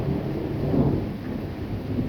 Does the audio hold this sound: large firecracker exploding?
no